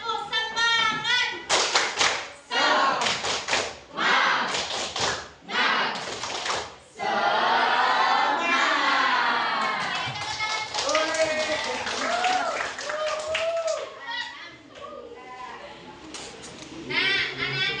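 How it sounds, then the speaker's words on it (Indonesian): Students in a classroom doing a rhythmic 'tepuk semangat' cheer clap, several bursts of patterned group claps in the first seconds followed by loud children's chanting and voices, close and energetic. "Tepuk semangat."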